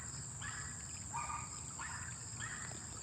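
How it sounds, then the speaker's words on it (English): Crickets chirp steadily in a front garden in late August, short repeated trills with a constant high insect drone beneath, fairly quiet and distant, no voices. "all the crickets chirping, which is just kind of standard background noise for me at this point"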